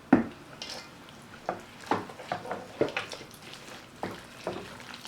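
A spoon working through homemade potato salad with egg and relish in a bowl, giving a string of close, irregular clinks and soft scrapes.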